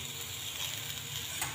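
Potatoes and spring onions fry in a pan with a soft, steady sizzle that holds evenly throughout, faint and close with no talking.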